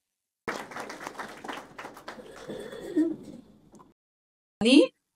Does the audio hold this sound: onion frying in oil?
no